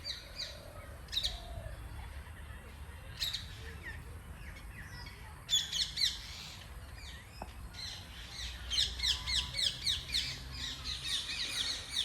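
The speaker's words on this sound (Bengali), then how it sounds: "হোয়াইট চাইনিজ গুজ আচ্ছা দেখো চাইনিজ গুজ সত্যিই ছোট ছোট পাখিগুলো" Small birds chirp and twitter in a park, with white Chinese geese nearby, in repeated bursts of calls over a steady outdoor background hiss, growing busier toward the end.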